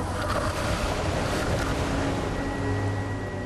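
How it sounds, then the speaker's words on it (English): Rough sea slamming the small fishing boat Strider, a dense roar of wind and surging water with a low engine drone beneath, loud and continuous without speech. "rough seas slam a small fishing boat named the Strider"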